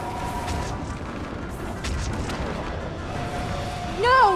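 Artillery fire support in the Mass Effect 3 video game, continuous rumbling booms and blasts under a chaotic battle din, with a sharp rising electronic whine at the end.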